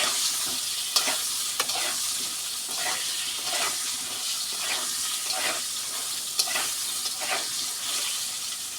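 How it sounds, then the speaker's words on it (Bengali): Potatoes and pointed gourd fry in a pan, giving a constant close hiss of sizzling oil with a series of clinking, scraping stirs at irregular intervals throughout. "আলু পটলটা ভালো করে ভেজে নিচ্ছি"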